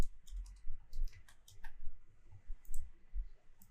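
Light clicking of keys on a computer keyboard comes in short, irregular clusters, close and quiet against a silent background, with no talk.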